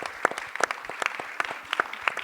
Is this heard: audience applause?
yes